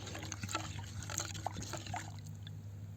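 Yeast and sugar solution being poured into a plastic bottle, a faint, low-level trickle and gurgle with small splashes over a steady background hum, no talk.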